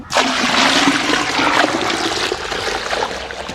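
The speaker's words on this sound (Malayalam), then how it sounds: "അപ്പോൾ നമ്മൾ ഇതിലേക്ക് വെള്ളം ചേർത്ത് കൊടുക്കാണ്" Water gushes steadily into a mixture in a container, a broad splashing rush that starts abruptly, stays loud and close, then eases slightly toward the end.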